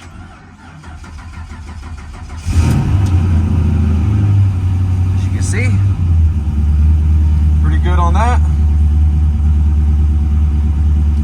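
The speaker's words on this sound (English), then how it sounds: "Engine sounds good." A Chevrolet El Camino engine cranks and catches about two seconds in, then settles into a loud, steady, rumbling idle close by, while someone talks over it.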